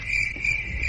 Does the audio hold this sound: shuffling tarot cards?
no